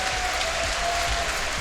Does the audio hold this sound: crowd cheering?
yes